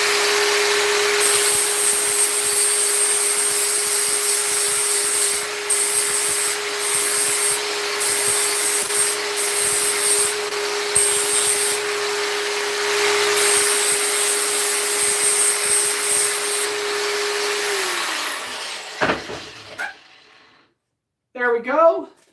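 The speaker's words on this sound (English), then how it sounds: "take it to the belt grinder to just refine the shape and such" Belt grinder shaping a Japanese santoku kitchen knife, a steady loud motor whine with grinding friction for about eighteen seconds, then spinning down, followed by brief handling clatter and a short burst of grinding.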